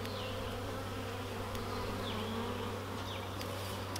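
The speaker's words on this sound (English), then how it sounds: "They are busy as bees, building it out with honey, and then they're capping it too." Honeybees swarm an opened hive over frames being built out with honey, some already capped. A dense, steady buzzing drone sits close and continuous, with individual bees whining past now and then.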